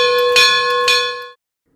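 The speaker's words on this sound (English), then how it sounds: "The Bell's new air actuator was installed," The bell of Reading T1 steam locomotive no. 2100, worked by its newly installed air actuator, strikes twice in a loud clear ring, each stroke sustaining a bright tone before it is cut off.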